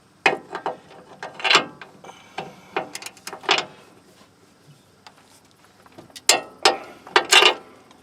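Hand ratchet tightening the lower shock bolt on a Nissan Titan during a CV axle replacement, several close bursts of quick clicking with short pauses between.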